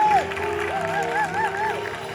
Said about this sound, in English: Can you clap your hands for SOV